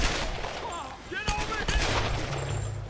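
Gunshots in Tomb Raider (2013) as Lara fights pirates, a few sharp reports spaced apart amid combat noise and chirpy effects, with a player talking over the action.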